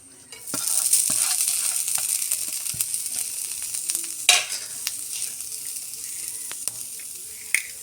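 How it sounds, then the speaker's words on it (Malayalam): Grated coconut dry-roasting in a pan on the stove for a roasted-coconut chicken curry, giving a steady hiss with scattered stirring scrapes and clicks, close and moderately loud, with no talking. "ഇനി നമുക്ക് തേങ്ങ വറുത്താണ് അരയ്ക്കുന്നത്. അപ്പം അതിന് നമുക്ക് തേങ്ങ ഇട്ട് കൊടുക്കാം"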